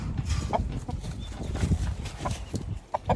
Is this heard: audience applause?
no